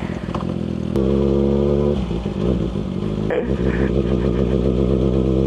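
Big bike motorcycle pulling away, loud engine revving with sharp throttle blips and clattering idle between bursts, close up and dominant, with a brief voice at the start.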